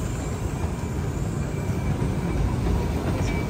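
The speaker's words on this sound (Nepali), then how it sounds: "दार्जिलिङको ट्रेन" The Darjeeling train at the town's station amid traffic, a continuous loud rumble of the rolling train heard nearby, with no talk and no distinct clatter of wheels.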